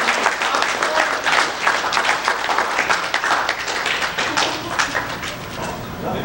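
Audience applause at a live event, dense steady clapping from a crowd filling the whole stretch with no break.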